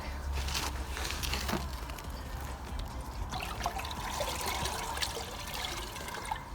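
Water splashes and trickles while rinsing dirty, brake-dust-covered car wheels, a steady hissing, dribbling wash with small bursts, fairly close and unbroken.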